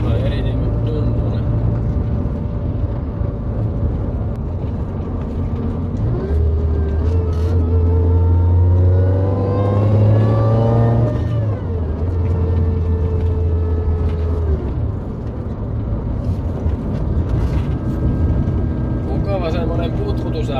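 AMR500 engine with a belt-driven supercharger and the throttle body moved ahead of the blower, a steady low rumble that rises in pitch under throttle and then settles, with someone talking over it throughout.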